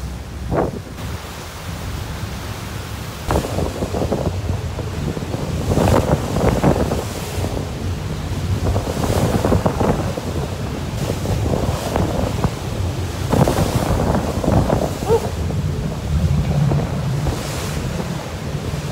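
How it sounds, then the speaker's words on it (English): Strong wind and rough waves pound a lake shore on the way to Isle Royale, a continuous roar with heavy wind gusts on the microphone and repeated surges of crashing water, with no talk. "It's a crazy wind, crazy waves out there today."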